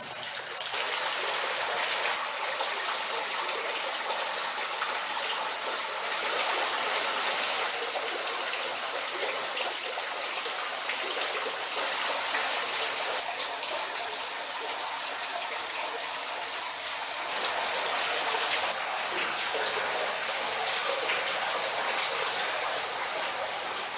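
Water gushes strongly from an abundant spring near old quarries, a loud, dense, continuous rushing roar that stays steady throughout with no voices over it.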